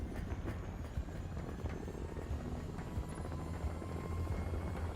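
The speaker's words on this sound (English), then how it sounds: "this helicopter's been taking off for 10 minutes now" A helicopter taking off in Call of Duty: Modern Warfare 3, a faint, steady rotor rumble with a rapid low thudding, continuous and without speech.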